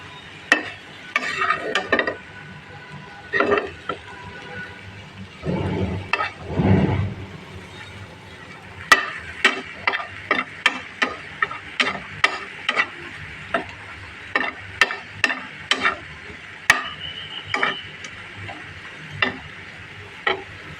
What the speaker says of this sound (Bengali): এখন এটা বর্তাটা বেটে নেব এভাবে সুন্দর করে আমি বর্তাটা বেটে নেব